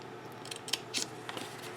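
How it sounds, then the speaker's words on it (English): Scissors snipping along score lines in patterned cardstock for a mini album craft project, a few short crisp cuts, close and quiet. "let's snip up till we hit that top one going across"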